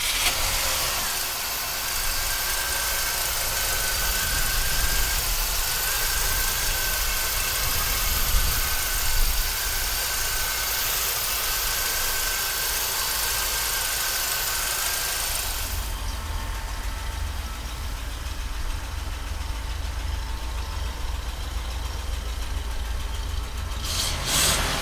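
A 1963 Cadillac convertible engine runs at a steady idle throughout, a continuous mid-range rumble with a slight rev near the middle and a change in background tone later, with no talking.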